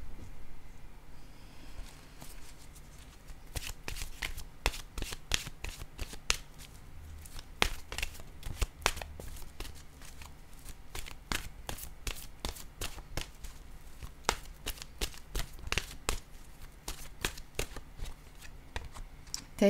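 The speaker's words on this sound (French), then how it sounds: "Je vais piger maintenant une carte de mon oracle de l'âme intuitive." Oracle cards being shuffled by hand before one is drawn, a long run of quick crisp riffling bursts and soft slaps, close and fairly quiet, with no talking.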